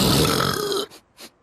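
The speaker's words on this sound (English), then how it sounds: "The old accidental on purpose burrito burp maneuver." A cartoon puffin lets out a long, loud, rasping burp that ends abruptly, followed by two short faint vocal sounds.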